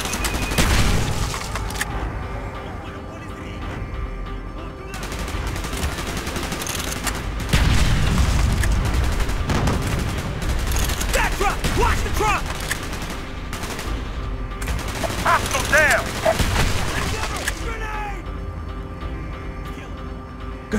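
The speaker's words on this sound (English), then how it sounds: "Gunfire's drawing attention." Call of Duty: Black Ops battle with dense rifle and machine-gun fire, bursts and volleys rattling almost without pause, punctuated by booming explosions, loud and close throughout.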